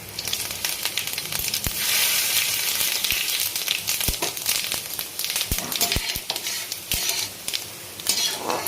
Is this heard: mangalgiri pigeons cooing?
no